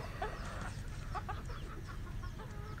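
Free-range hens and roosters cluck steadily around a cage, with repeated short calls from several birds at moderate distance over constant farmyard background noise.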